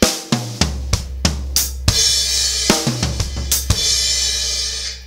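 A drum kit plays a quick fill of sharp hits across drums and cymbals, ending in a crash that rings out, loud and close.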